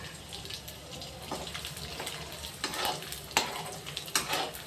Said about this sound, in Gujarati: હવે આપણે ગુંદર તળીશું ઘીની અંદર